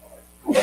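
A single short, sharp sneeze bursts out at the end after a brief quiet murmur.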